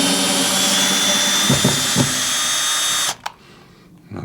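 Power drill whirring steadily at close range while boring into a wooden workbench, with a few brief load dips, then cutting off abruptly and leaving near quiet.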